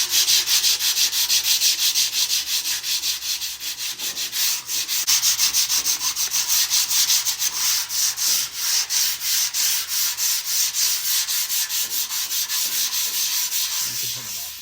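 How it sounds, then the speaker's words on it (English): Sandpaper of 120 grit rubbed steadily across a Blackstone griddle's steel top, a loud, continuous scratchy rasp with rapid back-and-forth strokes throughout, no voices. "I have went over this whole top with 120 grit sandpaper"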